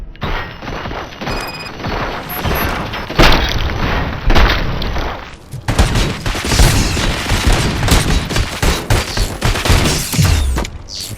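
Heavy gunfire and booming impacts in the action game RoboCop: Rogue City as a station is attacked, loud bursts of shots and crashes that come and go in dense clusters over about eleven seconds, with no talking.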